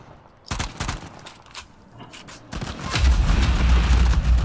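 Rapid gunfire bursts from a mobile shooter video game, starting as sharp separate shots and building into a dense, loud barrage of automatic fire with heavy booms toward the end.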